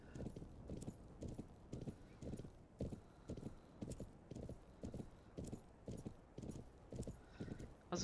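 Horse hooves clip-clop at a steady walking pace in the game Planet Horse, regular close thuds repeating evenly and quietly throughout, with a faint voice now and then.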